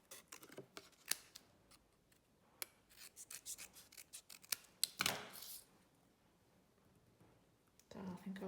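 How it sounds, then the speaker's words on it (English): Scissors cutting out a piece of stamped vanilla cardstock, with a series of close, quiet snips and paper rustles, a few louder crisp cuts and a longer rasping rub in the middle, in a quiet room. "I'm just going to cut that out to add onto my card"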